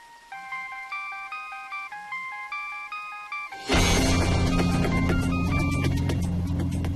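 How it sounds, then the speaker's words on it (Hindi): A mobile phone rings with a repeating electronic melody, which suddenly swells louder and busier as a fuller ringtone passage takes over and plays on without speech. "तेरा फोन बज रहा है।"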